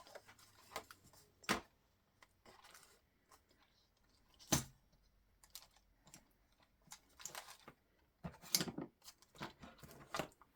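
Scissors snipping through a piece of cereal box cardboard being cut to size for a journal, a series of sharp separate clicks and crunches at irregular intervals, close and fairly quiet, with no talking.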